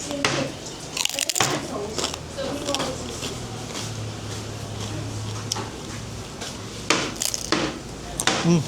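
Crunchy lechon pork belly being bitten, giving a few sharp, crackly crunches spread across the clip over a busy background of voices and room noise.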